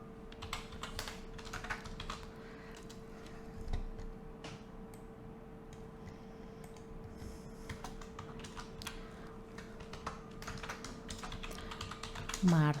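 Steady keystrokes from a computer keyboard while text is entered, a continuous quick run of light clicks with a faint steady hum underneath, close and alone with no talking.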